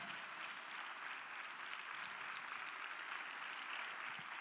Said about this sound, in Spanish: Denle ese aplauso al Señor Jesucristo